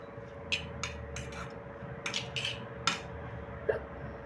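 Chinese bhel being mixed with dark soy sauce and salt in a bowl, giving scattered light clinks and taps of a spoon against the dish over a low steady hum, with no talk.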